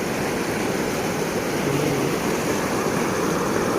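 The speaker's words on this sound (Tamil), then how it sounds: "அது தண்ணி இந்த பிரிட்ஜுக்குது, அந்த பாலத்து மேலேயே போய்க்குது" Floodwater pours over and across a bridge after two days of heavy rain in Chengam, a steady, loud broadband rush with no pause, close by and without voices.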